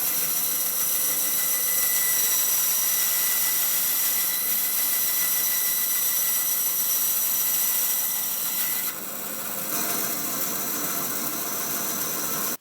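A piece of antler for a ferro rod handle is cut with a high-pitched power tool, a steady loud whine running throughout with a brief dip near the end.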